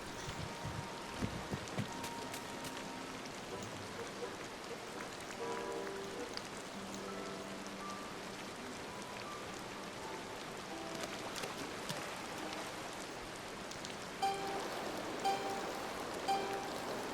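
Rain falls in Disney Dreamlight Valley as a soft, steady patter of drops. Faint tones and chimes from the game sound now and then over the patter, and no one speaks.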